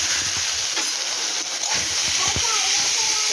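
Food fries in hot oil with a loud, continuous sizzle and hiss close by, while faint clatter and a voice sit beneath it.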